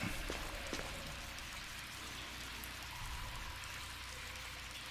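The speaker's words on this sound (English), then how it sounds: "It's it's raining out." Steady rain hisses in the video game Resident Evil HD Remaster. It forms an even, continuous wash of falling drops at moderate volume with no voices over it.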